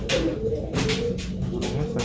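A pigeon of the speckled Cacah/Brintik type coos close by, a few low, soft throaty phrases repeated in a gentle rhythm with no talking.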